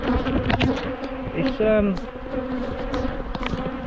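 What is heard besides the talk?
bees buzzing around an apiary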